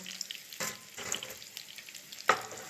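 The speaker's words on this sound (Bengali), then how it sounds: "এই একইভাবেই বাকি চিকেনগুলো আমি ভেজে নিচ্ছি" Chicken pieces frying in oil for homemade chilli chicken, a soft, steady sizzle with a few sharper bursts and light scraping, close and fairly quiet with no talking.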